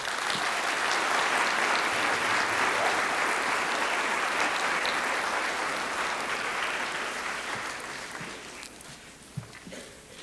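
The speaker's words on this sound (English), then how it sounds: "Would you please give them a round of applause?" An auditorium audience on a college campus gives a sustained round of applause for two student introducers, steady and full before thinning out and fading near the end.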